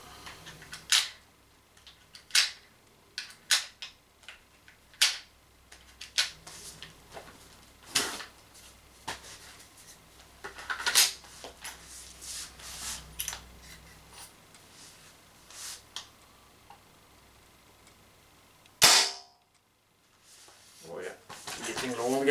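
A Tippmann Stormer paintball marker running on CO2 fires a string of sharp, separate pops about a second apart, emptying the remaining gas, with one especially loud blast near the end.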